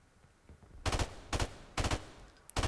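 Four loud, sharp gunshot bursts from an in-game weapon in Modern Warfare Remastered, a doubles match on the map Crossfire, firing at a steady spaced rhythm with quiet gaps between each, close and dominant with no talk.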